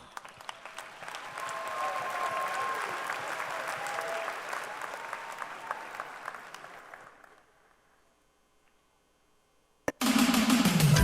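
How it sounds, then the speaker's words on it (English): Audience applause at the Iowa FFA State Leadership Conference general session, a large crowd clapping steadily for about seven seconds before fading into silence, then a different loud sound cuts in abruptly near the end. "Let's give our administrators and advisors one final round of applause."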